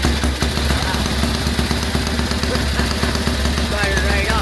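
A four-stroke Hungarian motorcycle engine idles steadily just after starting, a loud, close, even chugging throb that runs throughout while someone talks over it.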